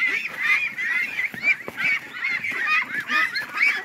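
A flock of farmed ducks calls over and over, loud nasal quacks overlapping in a steady, busy chorus.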